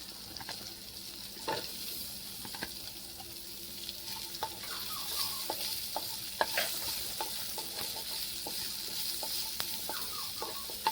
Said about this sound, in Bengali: পেঁয়াজটাও বেশ ভালো করে ভেজে নিতে হবে।